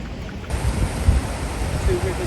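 Flowing water where two rivers meet and one joins the River Usk in Wales, a steady rushing wash mixed with wind buffeting the microphone, with low thumps and a brief faint tone near the end.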